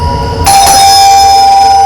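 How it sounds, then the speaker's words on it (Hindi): A loud electronic doorbell tone at a home starts abruptly and holds, a steady bright ringing chime that fills the rest of the moment. "गुड़िया कब से घंटी बज रहा है, सुनाई नहीं दे रहा है क्या?"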